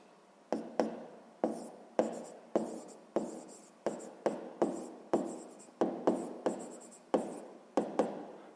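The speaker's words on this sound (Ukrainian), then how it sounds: "Я перенесу сюди, щоб там діаграму креслити." Pen or pencil writing on paper while drawing a pie chart diagram for a sixth-grade math exercise, with a steady run of about fifteen sharp, close strokes, each a quick scratch that fades, and no talking.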